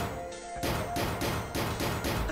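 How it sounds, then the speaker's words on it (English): Fists pounding hard on a door in the game 999, a series of heavy, evenly spaced thuds, about five blows in quick rhythm, loud and close with no talk. "He started slamming his fists against the door."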